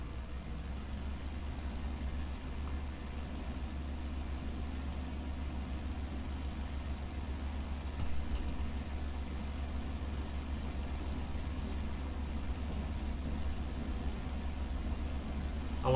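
A World War II F4U Corsair's radial engine rumbles in a steady, heavy low drone during a takeoff roll, holding constant with a slight swell near the end and no talking.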